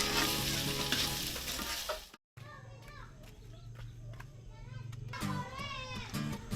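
Skipjack tuna slices cook with woku spices in a clay pot over embers, frying and sizzling steadily while being stirred. Children's voices and talk carry on throughout, with a brief gap of silence early on.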